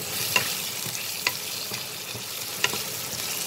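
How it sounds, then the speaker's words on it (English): Potatoes fry in a pan over reduced flame for a Spanish omelette, giving a steady close sizzle with a few sharp stirring clicks from a utensil. "Fry them just little till it turns little golden in color"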